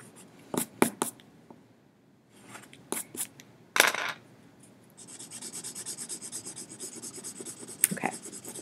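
An eraser rubs out part of a hand-drawn function graph on paper, with a few isolated taps and scrapes first, then steady rapid back-and-forth rubbing strokes close up.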